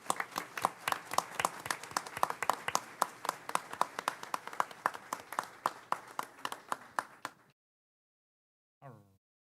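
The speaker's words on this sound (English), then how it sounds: "let's give them a round of applause and get a picture" A small audience at a school board meeting claps in a sparse, rhythmic patter of individual hands, close and clear, stopping abruptly before a brief voice.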